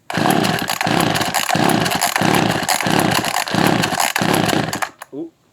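A small Echo 280e two-stroke engine, unused for ten years, sputters and revs in repeated bursts with brief dips between them, loud and close, then cuts out abruptly near the end.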